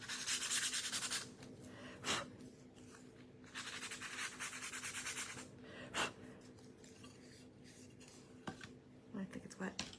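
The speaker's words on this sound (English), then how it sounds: "So I've got my 220 grit sandpaper." Hand sanding with 220 grit sandpaper on a snow globe craft piece, with soft broadband scratchy rubbing strokes in irregular bursts and a few sharp taps between them, fairly close and quiet.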